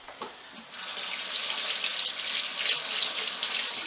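Tap water runs steadily into a kitchen sink while something is rinsed during cinnamon roll baking, a close, continuous splashing hiss with small fluctuations and no talk.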